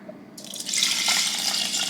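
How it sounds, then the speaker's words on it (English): Water is poured into a medium saucepan holding rice and butter, a bright splashing stream that starts abruptly after a brief quiet moment and continues steadily up close. "I'm gonna add in my 1 cup of rice, 2 cups of water"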